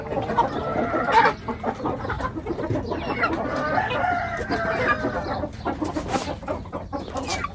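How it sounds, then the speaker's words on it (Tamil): Caged hens and roosters, including Thai hens, cluck steadily and crow in a loud, busy chorus that fills the whole stretch without any talking. "இந்த லோ பொட்டை பார்த்தீங்களா தாய்லாந்தி பொட்டை தாய்லாந்து நாட்டிலேருந்து வந்த பொட்டை"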